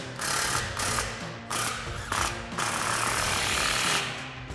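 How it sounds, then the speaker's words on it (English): A ratchet with a 15 mm socket tightens an exhaust clamp on a 2021-2023 Ford F-150 Corsa dual exhaust, giving rapid, loud, continuous clicking in several bursts separated by brief pauses, close by and with no talk. "grab our 15 millimeter socket and tighten it down."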